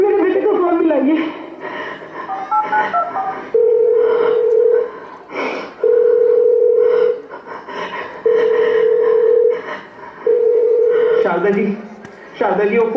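A telephone ringback tone repeats several times in steady, evenly spaced bursts during a school annual day stage performance, with voices talking and reacting between the tones.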